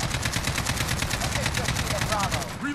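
An AK-15 fires full-auto in Call of Duty Modern Warfare, a rapid, evenly spaced stream of loud punchy shots running nearly three seconds before cutting off.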